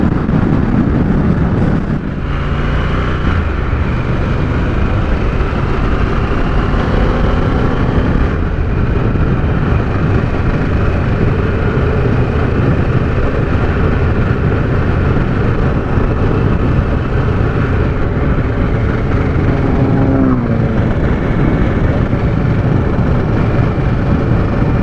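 Harley-Davidson Pan America motorcycle engine droning steadily while riding on open roads, loud and continuous with heavy wind rush over the microphone throughout.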